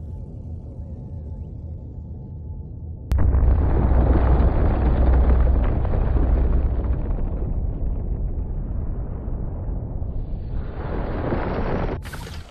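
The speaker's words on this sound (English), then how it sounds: "the nuclear bomb exploded and military flag factory explodes" A nuclear bomb detonates over a military flag factory in the game Destroy All Humans! (2020), with a sudden loud blast that swells into a long, dense roaring rumble, fading slightly before a brief flare at the end.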